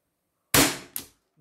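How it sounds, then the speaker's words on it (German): A Walther PDP Compact T4E CO2 airgun fires a single sharp crack, followed a moment later by a smaller second impact-like snap, isolated in silence. "ich mache gerne noch einen Schuss"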